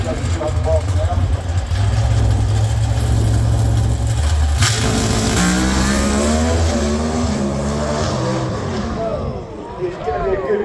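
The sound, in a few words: drag racing car accelerating down the strip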